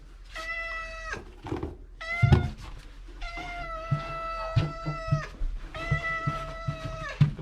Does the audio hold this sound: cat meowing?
yes